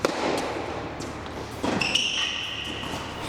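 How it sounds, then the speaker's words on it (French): A hard forehand strike on a tennis ball during an amateur club match, a couple of sharp thuds and bounces at moderate distance with a brief squeak, mostly free of talk. "on commence par un coup droit très fort de Paolo."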